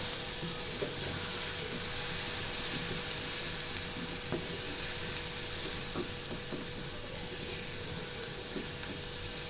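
Beef brain sizzles steadily in a pan while being stirred, a constant bright frying hiss with occasional soft scraping clicks of the spoon, close and moderately loud.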